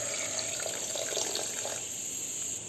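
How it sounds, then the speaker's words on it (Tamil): Water is poured into a pressure cooker while vegetable biryani is being made, a steady, soft splashing and hiss that runs close and alone for a few seconds. "தேவையான அளவு தண்ணி சேர்த்துக்கலாம்"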